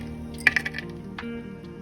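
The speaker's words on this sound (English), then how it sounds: "And now we're going to add some ice cubes to cool the lid." Ice cubes dropped onto a lid covering a pot of steaming salt water give a few quick clinks and taps close by, clustered in under a second, followed by a softer knock.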